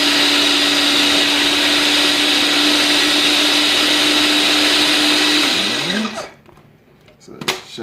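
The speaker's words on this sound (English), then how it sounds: "so we're just gonna give it a quick grind" Food processor grinding dhal puri filling for Guyanese dhal puri, a loud continuous whirring drone that spins down and stops near the end, followed by a few faint clicks.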